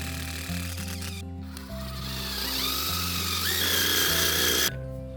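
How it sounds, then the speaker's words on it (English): A power drill bores holes into a concrete sidewalk for rebar, its motor whining loudly with shifting pitch as the bit bites in, stopping and restarting a couple of times. "first let me drill my holes for my rebar"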